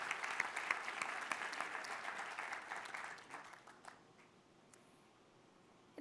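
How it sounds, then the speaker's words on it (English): Applause from a crowd at a medical school class day ceremony, full and sustained for about three seconds, then thinning out and fading to a few scattered claps in a quiet hall. "Give him another round of applause"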